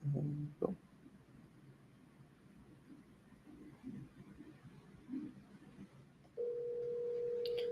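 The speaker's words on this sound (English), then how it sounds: "I'm gonna call your mom's cell phone." A phone call to a cell phone: a short burst of dialing tones, a quiet stretch, then a steady ringback tone that starts near the end and holds.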